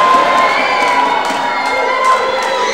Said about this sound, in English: That's Rivers they're cheering for.